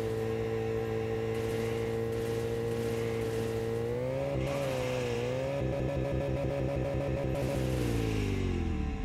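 A supercar engine in a mobile racing game with mega ramps and impossible tracks revs loudly and continuously, pitch climbing, dipping and stuttering through gear changes, with no talk over it.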